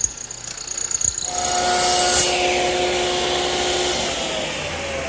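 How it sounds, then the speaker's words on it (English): Dedicated woodworking mortiser with a 1/4-inch chisel cuts a mortise in wood: a few light knocks and rubs, then a steady loud mechanical whine with a rasping hiss that holds for several seconds, close and with no voices. "I've set up my dedicated mortiser with the 1/4-inch chisel, adjusted the fence, and set the hole down."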